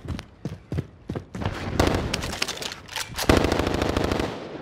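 Rapid automatic gunfire from the video game Call of Duty: Warzone, with a few separate shots leading into dense sustained bursts that are loud and close, plus a little background game noise.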